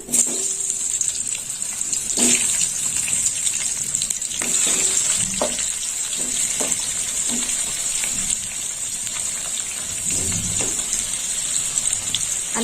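Potato pieces frying in hot oil in a pan for a Bengali parshe fish curry with aubergine, a steady close sizzle running throughout with occasional stirring clinks and scrapes.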